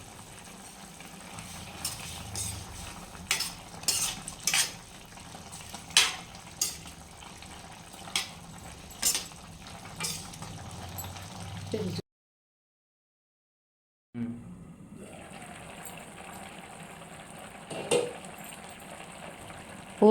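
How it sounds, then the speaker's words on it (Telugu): Mushroom curry, Nellore style, stirred in a pot and left to simmer under a lid: a series of short scraping stir strokes and clinks over a soft bubbling bed, then a brief pause and quieter simmering. "ఇప్పుడు దీన్ని బాగా కలబెట్టి మూత పెట్టుకొని 5 నిమిషాలు ఉడకనివ్వండి."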